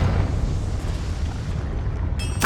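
A Confringo blasting spell explodes in Hogwarts Legacy, a loud rumbling blast that roars continuously and fills the low end, with a bright crackling burst near the end.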